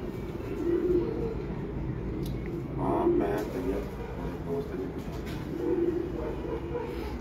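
Pigeons cooing on a rooftop in Multan, soft repeated low coos rising out of a steady background hum, with faint chirps and some distant noise.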